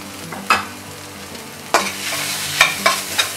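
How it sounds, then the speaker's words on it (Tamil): Vegetables and masala sautéing in a pan, a close sizzle punctuated by several quick, loud scraping stirs. "இந்த மசாலாவோட பச்சை வாசனை போகிற வரைக்கும் வதக்கிக்கோங்க"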